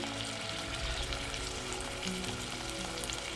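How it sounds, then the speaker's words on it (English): Continuous, close sizzling of a whole chicken frying in hot oil, a steady crackling hiss with faint bubbling underneath. "It'll just hear a nice little sizzle."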